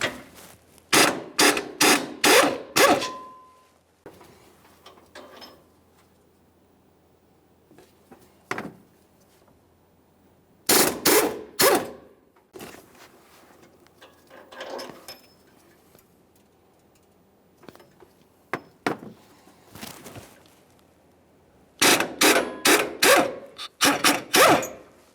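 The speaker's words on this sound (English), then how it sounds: "We'll be using an 18mm for each of these three mounting bolts." A ratchet turns 18mm engine mount bolts on a 2015-2020 Ford F-150 3.5L V6 in three bursts of fast, loud clicking, with quieter metallic handling and shuffling between them.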